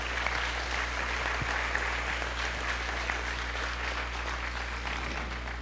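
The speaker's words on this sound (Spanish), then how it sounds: "Démosle un aplauso nuevamente a nuestros participantes." An audience at a panel on children's and adolescents' rights applauds the participants, sustained clapping from many people with a low hum beneath it.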